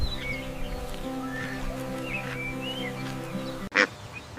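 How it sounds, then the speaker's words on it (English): A duck on a farm gives honking quacks against a steady droning background, ending in a couple of louder, abrupt calls close by. "This is a duck."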